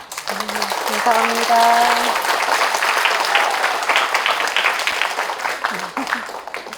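A lecture audience breaks into sustained applause for the speaker, a dense patter of many hands clapping across the room, while a nearby voice speaks briefly over the start of it.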